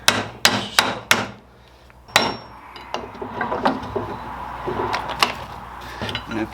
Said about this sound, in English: And I am using a deadpan hammer.